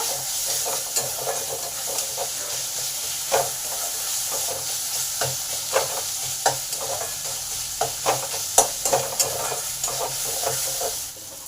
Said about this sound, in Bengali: এবার এই আদাটাকে পেঁয়াজের সাথে ভালো করে কষে নেব